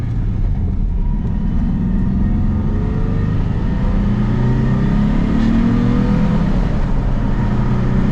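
A car engine runs steadily up close, with a continuous low rumble and a faint whining hum from a worn bearing over the top.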